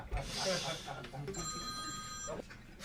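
A mobile phone rings out in a comedy club audience, a bright repeating electronic ring lasting about a second amid the room's ambience, with someone talking just before it.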